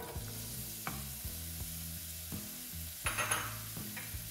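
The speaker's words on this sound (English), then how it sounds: "My pot is already hot, so I am going to add my onions" Onions dropped into a hot pot with olive oil, sizzling steadily with a few scrapes and stirs, a brief louder burst of frying near the end.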